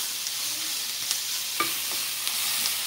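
Onions frying in a pan for cumin and turmeric eggs, a steady, close sizzle with a few sharp scrapes and clinks of stirring scattered through it.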